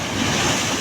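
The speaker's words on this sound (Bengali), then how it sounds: "এদিকে ঢেউটা জাস্ট অ্যামেজিং" Sea waves surge and wash onto the shore at Digha beach in a brief, loud, full rush of surf with wind noise across the microphone and no voices.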